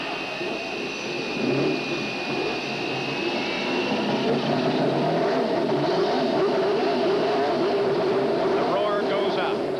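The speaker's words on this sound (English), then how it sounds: "Gentlemen, start your engines!" Several CART Indy race car engines fire up and idle on the grid at Phoenix in 1989, a dense, loud, continuous roar building from the start and then holding steady.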